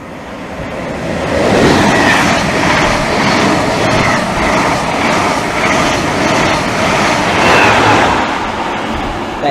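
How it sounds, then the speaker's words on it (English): An intercity passenger train to Norwich, hauled by electric locomotive 90013 with driving trailer 82139, passes through Romford station as a loud, sustained rumble and rush that swells and stays strong for the whole clip. "now getting ready to pass by is an intercity to Norwich"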